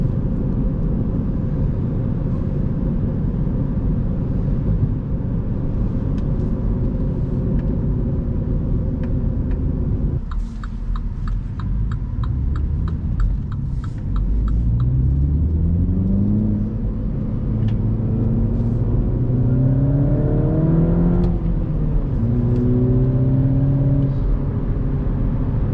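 MINI Cooper S engine heard from inside while driving, a steady low rumble that rises and falls through several gear changes, with rising revs audible in the second half and no talking.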